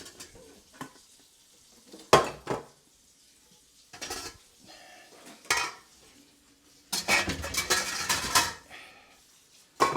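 A big metal cooking pot clanks and scrapes as it is handled at home while making potato salad, with several loud bursts of clattering and rattling separated by quieter pauses, close by and with no talking.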